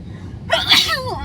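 A single sharp sneeze bursts out close and loud after a quiet lead-in, then trails off into a short breathy tail, alone with no talk.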